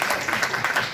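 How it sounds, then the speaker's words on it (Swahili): Brief burst of clapping from an audience at a national cancer summit, applauding Pfizer; a dense, steady patter of hands lasting about a second. "Makofi kwa Pfizer tafadhali"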